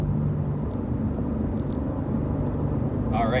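A 2024 BMW M2 with a manual transmission drives along, its engine and road noise forming a steady low rumble heard from inside the car, with a voice briefly starting near the end.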